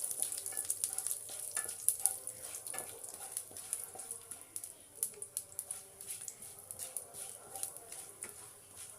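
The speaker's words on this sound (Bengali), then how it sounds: "তেলের মধ্যে দিয়ে দেব আমি তেজপাতা, শুকনো লঙ্কা ও 5 ফোড়ন। এগুলো একটু আমি ভেজে নেব।" Bay leaf, dried red chilli and five-spice seeds frying in hot oil for a home-style winter vegetable dish, a steady crackling sizzle with scattered sharp pops and occasional stirring clicks, fairly close and moderately quiet throughout.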